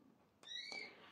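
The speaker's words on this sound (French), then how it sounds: "il y a mon oiseau, il n'arrête pas de piailler là" A pet bird indoors lets out two short, high, clear chirps in quick succession, faint and close, with no talking.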